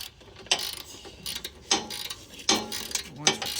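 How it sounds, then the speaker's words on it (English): A 16mm nut with a lock washer is tightened on a Coleman KT196 go kart wheel: a few short bursts of ratcheting mechanical clicks, close and fairly loud, separated by brief pauses. "I'm putting the lock washer and the 16mm back on there. So we're gonna tighten this up."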